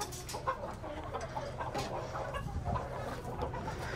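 Warbeck roosters cluck and squabble among themselves in a garden, a busy overlapping flock of clucks and short calls close by with no talk.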